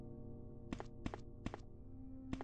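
A weapon is reloaded in the Resident Evil video game. Four quiet mechanical clicks and thunks come in a short, uneven sequence over a low steady hum.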